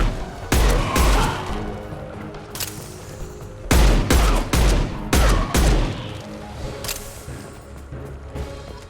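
Gunfire in the video game Mass Effect 2 during a colony battle, several loud bursts of rapid shots separated by short gaps, with echoing booms and crashes between volleys.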